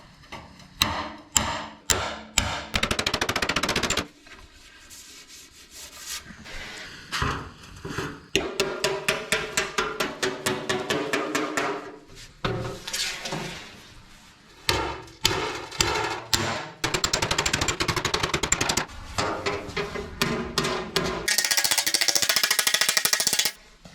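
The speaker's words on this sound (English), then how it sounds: "Here on the bench I got my hammer, dolly set." Hammer and dolly shaping a metal patch panel on a workbench, with bursts of rapid, loud metallic blows and rhythmic tapping separated by short pauses, close and continuous over most of the stretch.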